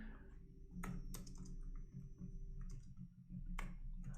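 Soft clattering keystrokes on a computer keyboard, irregular taps with a few sharper clicks, close and quiet over a low hum.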